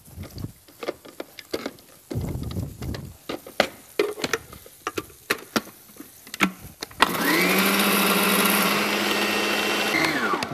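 A blender whirs loudly and steadily, mixing cream into a scallop mousse filling, after a stretch of clinking and scraping as ingredients go into the bowl.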